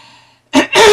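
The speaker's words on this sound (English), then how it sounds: "Clear my throat." A single throat clearing, close and fairly loud, after a brief quiet pause: a short burst followed by a longer rough, voiced rasp.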